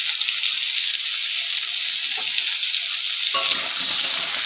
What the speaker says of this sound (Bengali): দিয়ে আমি আলুটা একটু ভেজে নেব।